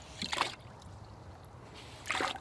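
Two short splashy bursts of semi-clean water being poured out of a paint bucket while cleaning brushes and rollers, separated by a quiet pause, fairly close and moderately loud.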